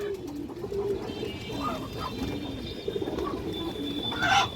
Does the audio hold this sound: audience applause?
no